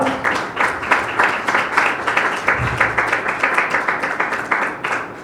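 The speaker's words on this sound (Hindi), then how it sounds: "यीशु मसीह के लिए तालियां बजाए कलीसिया।" A church congregation claps in a strong, rhythmic unison beat, loud and close, continuing steadily throughout with no talking.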